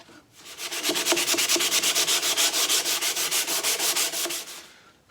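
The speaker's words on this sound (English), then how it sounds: "I'm going back to the 80 grit sandpaper, and I'm just going to make that little chamfer" Wooden table leg sanded by hand with 80-grit sandpaper, making rapid, regular back-and-forth rasping strokes, loud and close, about two dozen strokes in steady rhythm with no voices.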